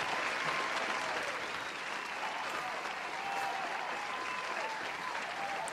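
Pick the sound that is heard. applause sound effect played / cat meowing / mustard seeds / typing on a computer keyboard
applause sound effect played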